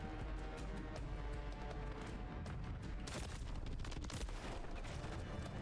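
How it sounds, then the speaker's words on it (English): Gunfire in a first-person shooter video game, with a sharp, loud sniper rifle crack standing out amid a steady stream of rapid shots and bursts, close and continuous throughout. "That was a sniper, and he hit me twice."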